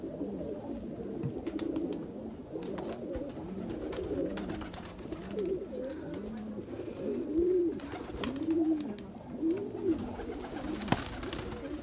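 Nagpuri giribaz pigeons coo in a steady chorus of soft, rolling, repeated calls from several birds nearby, layered over a faint background hiss.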